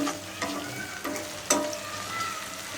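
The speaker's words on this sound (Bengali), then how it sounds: "পেঁয়াজটা একটু অল্প অল্প ভাজলাম" Onions frying in a pan, a close steady sizzle punctuated by sharp scraping clinks of a utensil stirring against the metal, with no voices.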